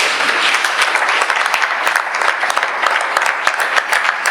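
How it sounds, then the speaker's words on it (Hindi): Church congregation applauding during a sermon, a steady patter of many hands clapping close by, sustained throughout with slight swells and no speech over it. "ताली बजाओगे?"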